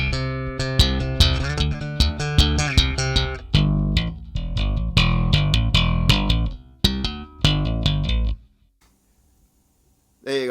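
A budget Stingray-style bass, the SBMM Ray34, played with a busy slap technique through a mid-scooped tone with boosted lows and highs, giving sharp popping and thumping notes for about eight seconds before going quiet.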